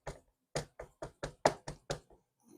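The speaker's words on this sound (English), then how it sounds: "Give it some thumps." A resin mold is thumped by hand to settle bubbles, giving a series of eight or so dull, evenly spaced knocks close by, with a softer tap trailing at the end.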